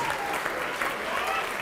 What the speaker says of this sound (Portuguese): Vamos aplaudir mais, está vindo mais.